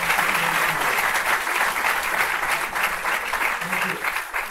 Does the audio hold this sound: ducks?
no